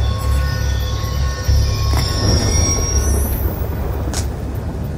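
Train in the Call of Duty Black Ops II video game, wheels squealing with sustained high metallic screeches over a low rumbling rolling drone, loud and close, with a rising whine near the end.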